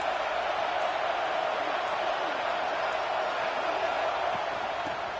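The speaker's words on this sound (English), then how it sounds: "This crowd bringing the energy and noise early." Steady roar of a stadium crowd in an NCAA college football video game, a dense continuous wash of noise that stays level and loud throughout with no distinct cheers standing out.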